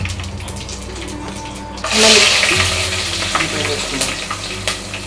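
Whole garam masala spices and a leaf hit hot oil for an egg omelet biryani, giving a sudden loud sizzle and crackle that then settles into a steady frying hiss with scattered pops, close up and with no talking.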